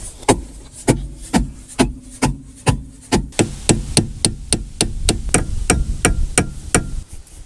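Steady, repeated metallic hammer blows on a car brake drum of an abandoned Dodge Omni ring out, around twenty strikes in a regular rhythm, loud and close.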